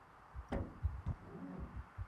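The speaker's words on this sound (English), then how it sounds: "Now I hear a faint heartbeat in the back" Faint, low heartbeat pulsing in the background of the zombie survival game Project Zomboid, a few soft irregular thumps over a quiet hum, no talking.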